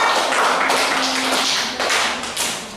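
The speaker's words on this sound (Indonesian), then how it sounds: "Oke, beri tepuk tangan kepada kelompok 1." A classroom of students claps for a group after an Islamic religious education lesson, a dense burst of many hands filling the short stretch, close and fairly loud with no talk over it.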